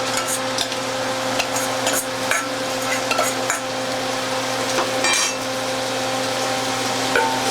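Onions and celery cook in a pot for loaded potato soup, with steady frying sizzle, occasional utensil scrapes and clinks against the pot, close and moderately loud, over a constant kitchen hum.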